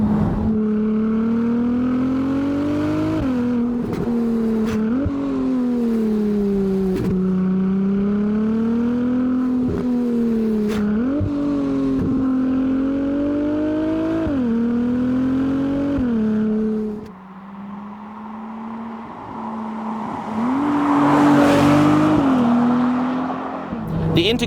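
Ferrari 296 hybrid V6 engine revving loud and close, with rising and falling pitch sweeps as it accelerates through gears, then a brief drop and a harsher surge near the end; no speech.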